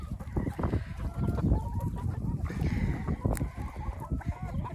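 A small flock of chickens clucks and murmurs nearby while being hand-fed scattered feed, a busy, fairly faint layer of soft clucks and scuffling.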